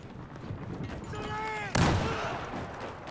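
A grenade explosion in the Battlefield 4 Suez chapter: a sudden loud broadband blast mid-clip that decays over a second or so, after a spell of combat noise with a faint whistling tone just before it.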